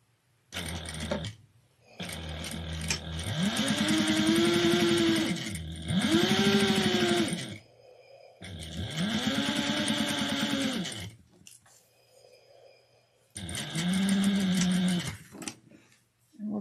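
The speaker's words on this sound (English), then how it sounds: "We're going to sew this at 1/8 of an inch down." Sewing machine stitching a clutch wallet an eighth of an inch from the edge, running in four loud, close bursts of rapid whirring with short quiet pauses between them.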